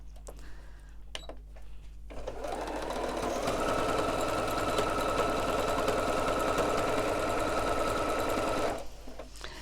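A sewing machine runs continuously for several seconds, stitching around a fabric Christmas stocking panel with a fast, even, close whirring rattle that starts after a few quiet clicks and stops cleanly.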